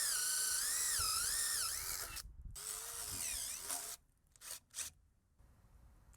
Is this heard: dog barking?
no